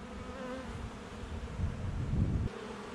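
A honey bee swarm buzzing around a box set out with a queen, a dense continuous hum of many wings, fairly quiet and steady with a slight swell as bees pass near.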